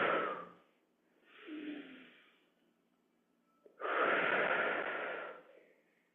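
Breathing during a squat exercise: a deep inhale, a pause, then a longer, louder exhale, close and clear with no other sound around it.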